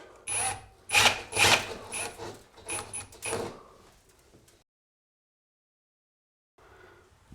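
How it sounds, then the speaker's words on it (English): A power drill whirs in several short, loud bursts as it bores a hole in a wall for a hollow wall anchor, then stops, followed by near silence and faint shuffling. "Drill the hole out."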